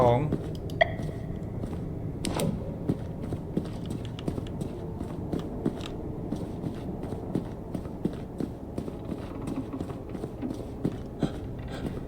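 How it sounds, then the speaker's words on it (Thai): Footsteps off to the right in a horror video game, a run of soft repeated steps in a steady rhythm under near-constant talking, with a couple of sharper knocks early on. "เสียงเท้าหนึ่งทางขวา"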